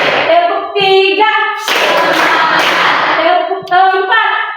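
A standing group does a counted clapping icebreaker, producing a short, loud burst of several quick, crisp claps together. A voice leads before and after the clapping.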